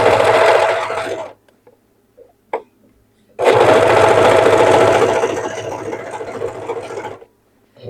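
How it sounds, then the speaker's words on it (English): A sewing machine stitches together tiny fabric scraps in two loud, close bursts of rapid rhythmic whirring and clatter, separated by a quiet pause with a few small clicks and ending in silence. "You can sew it with a straight stitch on your machine"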